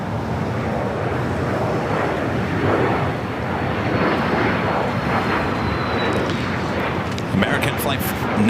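An airliner takes off at LAX, its jet engines giving a steady, broad roar that fills the scene for several seconds with a faint rising whine near the end.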